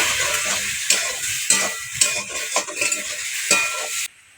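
Water splashed into a pan of frying bottle gourd greens, making a loud close sizzle with repeated stirring scrapes and bursts before it cuts off abruptly.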